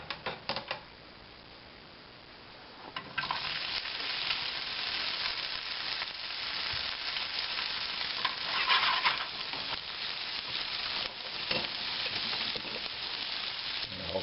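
Diced Spam sizzling in a hot nonstick-sprayed skillet, a dense, steady crackle and hiss that starts abruptly after a brief quiet moment with a few clicks, then holds close and loud throughout with occasional stirring scrapes.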